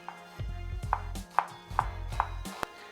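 An onion roughly sliced with a knife on a cutting board, a steady run of about six firm, evenly spaced chops up close, with no talk.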